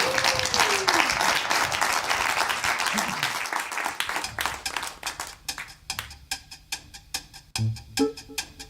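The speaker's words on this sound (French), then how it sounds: "On les applaudit très fort." An audience claps for musicians after a song on a French pop show, dense applause at first that thins out into scattered, distinct individual claps toward the end, with a brief voice sound early on.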